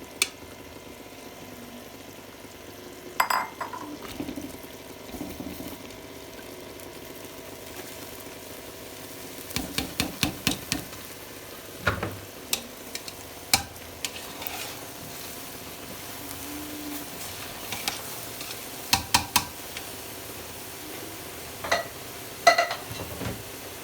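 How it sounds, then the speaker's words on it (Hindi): Oil and rice going into hot sugar syrup for zarda, stirred in a pan: a steady low sizzle and simmer broken by clusters of sharp scraping and clinking stirring strokes, with no talking. "अब मैं इसके अंदर ऑयल डालने लगी हूँ और साथ ही चावल डाल दूँगी।"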